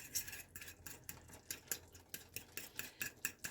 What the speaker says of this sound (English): I'm just going to keep stirring.